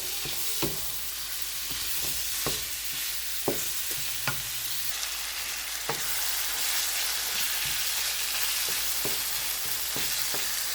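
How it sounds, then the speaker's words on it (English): Ground beef fries in a pan while it is broken up and stirred, a steady close sizzle broken by sharp spoon clacks and scrapes at an irregular pace. "Continue to cook your ground beef until it's cooked through"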